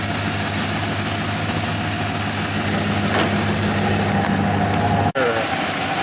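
A 1995 Ford 302 V8 idles with a loud, steady drone during an A/C recharge; near the end the A/C compressor clutch engages with a sharp click and a brief dip in the sound.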